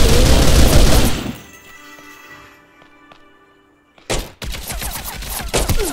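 Gunfire in an Android mobile game like GTA 5: a loud, dense burst of rapid shots opens, fades to near silence, then a sharp crack and more steady shooting noise return.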